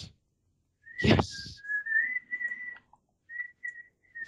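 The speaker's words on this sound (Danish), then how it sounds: "Hvad fanden er der sidder og fløjter?" Someone whistles during a Battlefield 3 multiplayer game, a thin, clear tune of sustained notes broken by short pauses, heard close and fairly quiet after a brief burst of game noise.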